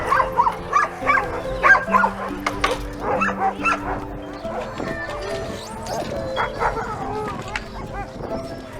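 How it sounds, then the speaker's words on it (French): A pack of Arctic sled dogs of mixed breeds kept outdoors in northern Finland barks, yips and whimpers in overlapping bursts, loud and close, growing busier and more scattered toward the end. "Il y a des races différentes, mais ce sont tous des chiens arctiques, donc ils peuvent vivre dehors,"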